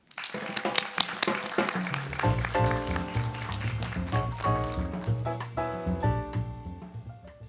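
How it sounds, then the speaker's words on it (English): Audience applause at a conference session welcoming the moderator, scattered clapping heard beneath loud, rhythmic walk-on music with a steady beat. "Please welcome her with a big applause."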